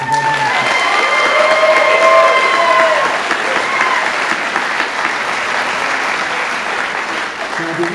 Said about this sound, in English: And then a third round of applause for all of our graduates.